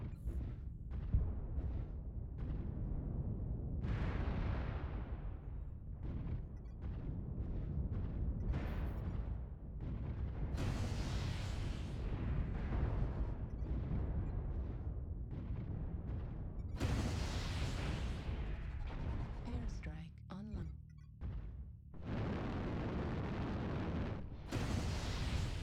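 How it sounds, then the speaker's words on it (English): Incoming missiles explode in a mech combat video game on a frozen city map at night, a dense, loud, continuous barrage of booms and blasts with brief gaps and sharp cut-ins. "Warning, incoming missile."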